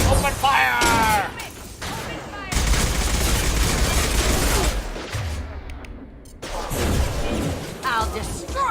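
Sustained gunfire from a Mass Effect 2 firefight on Ilium, dense bursts rolling on and off for several seconds, with a voice talking over parts of the shooting.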